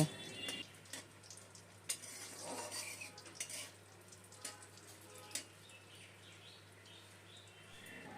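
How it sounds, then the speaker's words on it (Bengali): Whole spices, cardamom, cinnamon, cloves, two cut dried red chillies and two bay leaves frying in oil for a mutton curry, a faint low sizzle with occasional utensil clinks and pan knocks. "ফোড়নটা একটু তেলে ভেজে নেব"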